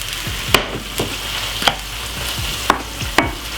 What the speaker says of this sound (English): this is some Jamaican caramel dumpling just cooking